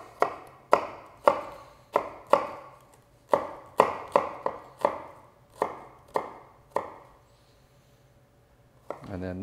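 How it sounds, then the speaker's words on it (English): A knife chops dill and chives on a cutting board in about fifteen crisp, sharp knocks at an uneven, unhurried pace, close and clear, tapering off near the end. "a little dill, a little chives. Just give those sort of a little chop"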